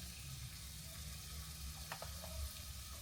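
Chicken grilling for a salad gives a faint, steady sizzle close by, with no talk and a few small pops and crackles rising briefly over the hiss.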